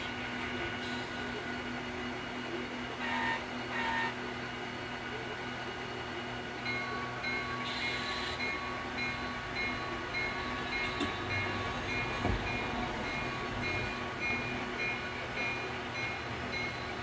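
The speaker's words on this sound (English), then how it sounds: "It's a lot easier using one locomotive than 2." A single locomotive moves train cars during switching, giving a continuous low rumble with faint metallic squeals and clanks that holds at a steady level throughout, with no talking.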